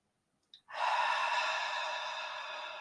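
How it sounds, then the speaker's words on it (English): A slow, deep inhale through the nose during a guided mindful relaxation practice, one long breath close to the mic after a brief catch, steady and alone. "So breathing in deeply."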